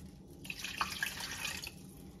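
Water pours in a soft, steady stream for a little over a second into a bowl of sambusa sandwich dough, close by and fairly quiet, with a low background hum before and after.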